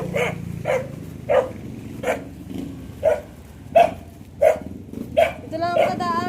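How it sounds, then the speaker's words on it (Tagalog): A dog in the Philippines barks repeatedly at a steady pace, about nine sharp barks spaced under a second apart, fairly close and loud over background road noise on a tricycle ride. "may aso dyan"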